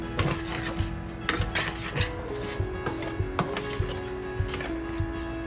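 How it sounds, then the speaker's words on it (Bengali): A spoon scrapes and rubs through thick spice paste in a pan, rhythmic rasping strokes with occasional metallic clinks against the pan, steady and close. "এটা ততক্ষণ পর্যন্ত নাড়তে হবে যতক্ষণ না এটা শুকিয়ে তেলগুলো বাইরে আসে"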